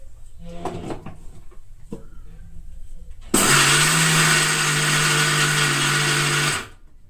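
After a few clicks and knocks of setup, a kitchen mixer grinder blending flattened rice with fresh coconut starts abruptly with a loud, close, whirring motor roar, runs steadily for about three seconds, then winds down.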